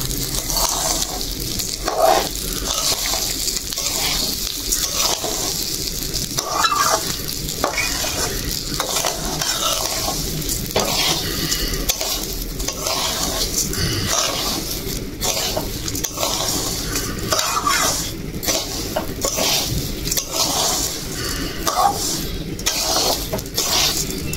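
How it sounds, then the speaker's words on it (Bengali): Dal and rice are fried in oil for a village khichdi, a constant sizzle under rhythmic, repeated scraping of a spoon against the pot that continues at a steady pace. "ডাল চাল আমি ভাজে নিলাম"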